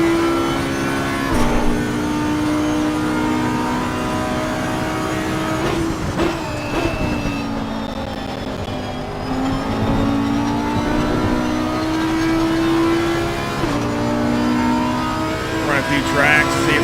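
A race car engine in the Assetto Corsa Competizione racing game drones steadily and loudly, its pitch rising and falling through gear changes as it revs. Faint talk sits under the engine.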